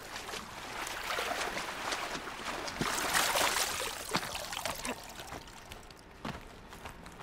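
Aloy swims through water in Horizon Zero Dawn, making close, continuous sloshing and splashing swishes that rise and fall in strokes. No one speaks.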